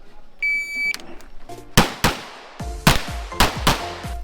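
Gunfire from practical shooting practice on a range: a beep signal, then about five sharp, loud shots in quick succession, each with a short echoing tail.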